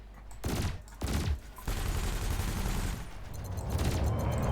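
Weapons fire at floating canisters during a combat evaluation in the space game Elite Dangerous, with loud bursts of shots in quick succession followed by sustained rapid fire and rumbling impacts.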